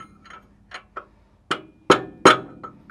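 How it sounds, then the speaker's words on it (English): Hammer blows on a brass drift knocking out a kingpin bearing race from a Toyota LandCruiser knuckle: a few light taps, then three sharp, ringing metallic strikes that grow louder, each followed by a brief clink. "Grab your hammer and give it a good old whack."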